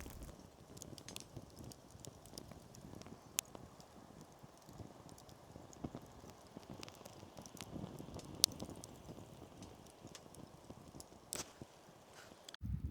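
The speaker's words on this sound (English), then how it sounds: "Great sound that, isn't it? The sound of a crackle." Faint, continuous crackling and popping of a campfire outdoors in light drizzle in a Northumberland forest, with scattered sharper snaps over a soft, steady background.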